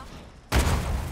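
A single gunshot in Killing Floor 2 cracks out abruptly after a short quiet moment, a loud close blast with a lingering boomy tail.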